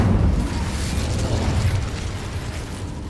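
Incendio fire spell cast in Hogwarts Legacy: a full, roaring burst of flame with booming low rumble and crackling texture, sustained and loud for about three seconds and slowly easing off.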